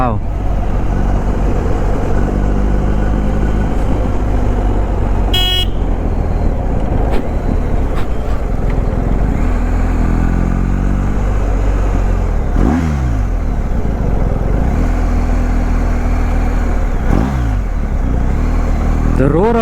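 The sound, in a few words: boxer motorcycle engine roaring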